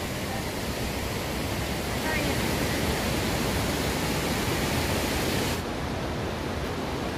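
Waterfall at the Sete Quedas campsite roaring as a loud, steady, broadband rush that fills the whole clip, with no clear talk over it.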